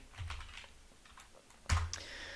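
Keys tapping on a computer keyboard while entering a command in AutoCAD, a few quiet scattered keystrokes followed by one louder, sharper clack near the end.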